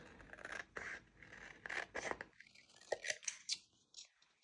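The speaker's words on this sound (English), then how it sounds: "Trimming out these small pieces." Scissors trimming small pieces of vinyl, heard as close, quiet snips and scraping cuts in an irregular rhythm, with soft breathy vocal sounds faintly in the background.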